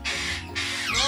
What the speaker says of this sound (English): It's gonna be noisy in here. Is it? Yes. This is our parrot section.